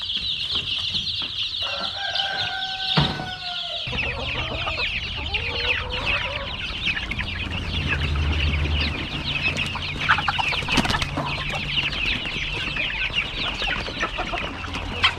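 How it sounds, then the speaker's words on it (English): Meat chickens on a family farm cluck and chatter steadily as a dense flock, with a rooster-like call early on, the busy fowl noise continuing without pause under faint outdoor hum. "These are our meat birds."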